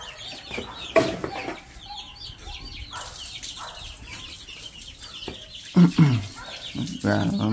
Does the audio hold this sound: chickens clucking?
yes